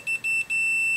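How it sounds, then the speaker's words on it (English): A multimeter in continuity mode beeps on a jumper link: a clear, loud steady tone with several short broken pulses at first, then one continuous beep held to the end, close and alone with no talk. "when it detects a short, it will beep."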